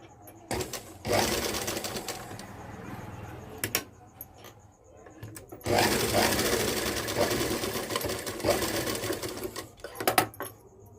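A sewing machine runs in two long bursts of rapid mechanical stitching while sewing a design, with quiet pauses and faint clicks between the runs.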